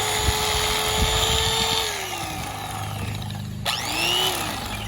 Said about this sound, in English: Once he gets under the ribs, he's going to turn the fillet knife upward.